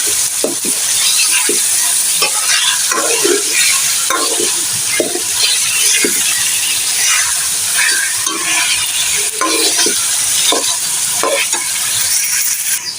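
Meat for nihari fries loudly in a pot, a dense continuous sizzle and hiss broken by repeated spoon scrapes and clinks, with no one talking.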